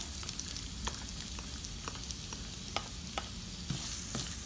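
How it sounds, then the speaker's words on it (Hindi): Chopped onions and garlic frying in a pan give a steady, close sizzle, broken by sharp clicks and scrapes of stirring throughout, with no talking. "अब मैं इसमें प्याज डाल रही हूँ"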